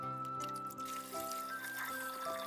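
Water running and trickling steadily over a silk kimono underrobe being rinsed, a continuous close splashing flow with faint background tones, no talking.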